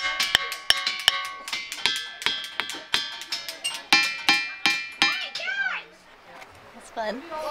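Rocks struck one after another in a brisk, uneven rhythm, each hit giving a bright metallic ring, with children's voices and squeals toward the end.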